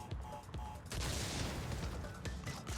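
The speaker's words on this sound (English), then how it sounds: "groups of TNT crates that are physically adjacent to each other will blow each other up in a chain reaction" TNT crates in the Crash Bandicoot game blow up in a rapid chain, a dense run of loud booming blasts and crackling debris that follow one another over a few seconds.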